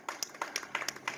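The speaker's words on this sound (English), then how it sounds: "Give a big round of applause to Mahesh for everything also." A short burst of audience applause at a community event, a handful of distinct, fairly crisp claps in quick irregular rhythm, quiet and brief with no voices.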